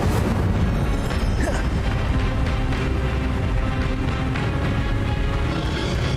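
Incendio fire spell blasts in Hogwarts Legacy, a dense, loud, sustained roar of bursting flame and booming impacts throughout, with no talking.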